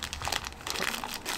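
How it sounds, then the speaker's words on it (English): Plastic bag being opened, giving a continuous close crinkling and rustling for a second and a half with no voices. "This is a plastic bag, for heaven's sake."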